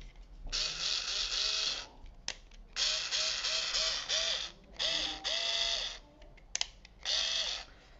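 A HYCHIKA SD-4C electric screwdriver whirs in short bursts, four separate motor runs of about a second each with quiet gaps between, close and fairly soft.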